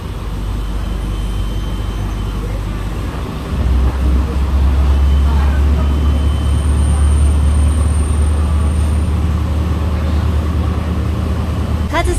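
Kominato Railway diesel train running on past Ushiku station, a steady low rumble of engine and rolling wheels heard from on board, swelling louder after a few seconds and holding a continuous drone.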